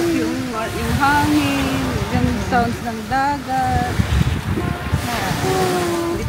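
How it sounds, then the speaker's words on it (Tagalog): Sea waves and wind rush steadily in the background at the seaside, mostly masked by people talking and laughing close by. "Makakantok yung hangin, yung sounds ng dagat."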